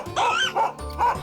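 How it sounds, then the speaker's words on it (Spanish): A dog giving three short, high yapping barks in an even rhythm, close and clear with no talk over them. "Es un perro ladrando."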